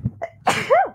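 One close, loud human sneeze comes after a quick gasping intake of breath, with a brief wavering vocal tail at the end of the burst.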